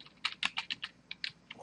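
Login details being typed on a computer keyboard: about nine close, crisp keystrokes tapped in an uneven rhythm, with no voices.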